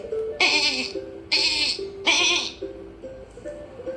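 A cartoon goat sitting in a village road gives three loud, close bleats in a row, each short and wavering, with gaps between them.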